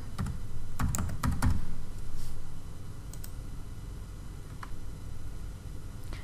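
A command is typed on a computer keyboard. A quick, close flurry of key clicks comes in the first two seconds, then a few scattered taps follow over a steady low background hum.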